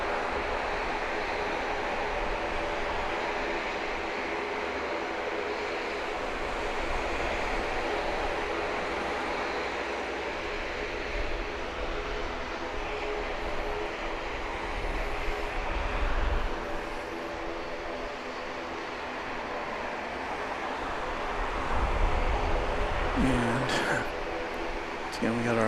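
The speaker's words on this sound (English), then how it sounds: "It's a 737-800. Our second American Airlines Miami arrival of the morning." An American Airlines Boeing 737-800 arriving from Miami at Grand Cayman airport produces a sustained, broad engine roar at moderate distance, with wind buffeting in the background and a person speaking intermittently.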